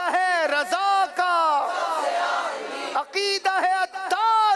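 A large crowd at a naat competition chants religious slogans in unison, loud rhythmic shouted phrases with short pauses between them, ringing through a reverberant hall.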